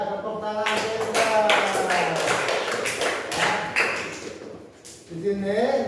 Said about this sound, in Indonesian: Ya, tepuk tangan kita.